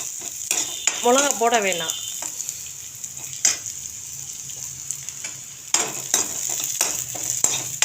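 Hot oil crackles and sizzles steadily as tempering spices fry for a Chettinad-style drumstick leaf stir-fry, with occasional sharp spatters, while a voice speaks briefly over the cooking.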